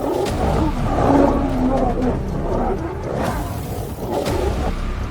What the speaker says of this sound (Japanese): 咆哮が空気を切り裂き、赤い塵を巻き上げる。